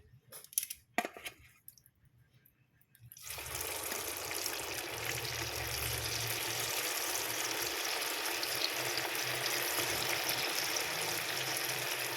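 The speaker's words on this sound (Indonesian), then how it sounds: "ini minyaknya sudah panas dan ayam marinasinya siap untuk kita goreng ya" A few light clinks and taps, then a sudden loud burst of sizzling as marinated chicken drops into hot oil, continuing as a steady, bubbling fry.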